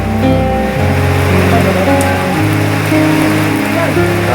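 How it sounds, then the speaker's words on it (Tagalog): Steady rain and gusting wind from a typhoon under Signal No. 5 roar continuously at close range, with low rumbling tones running underneath throughout. "Nag-uumpisa pa lang yung ulan. Ayan, nag-uumpisa pa lang yung hangin."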